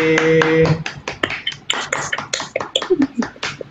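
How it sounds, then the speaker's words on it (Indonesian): Audience in a classroom clapping for a presenter after a teaching demonstration, a burst of many hands that begins under a voice and then thins into scattered, uneven claps. "Ayo semuanya kasih tepuk tangan buat Niati"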